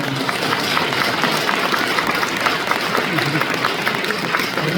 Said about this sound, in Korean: 박수로 맞으시면 고맙겠습니다.